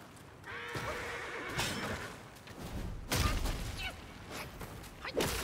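A horse in the video game Black Myth: Wukong whinnies in a strained, shaky neigh amid combat, with a few dull thuds and impact hits over quiet ambient sound.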